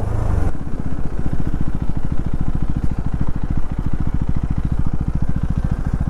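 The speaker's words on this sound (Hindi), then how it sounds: "Engine braking." A 2024 Husqvarna Svartpilen 401 motorcycle's engine braking comes through as a loud, close, rapid regular engine pulse that stays steady for several seconds after a brief opening burst of wind and engine noise.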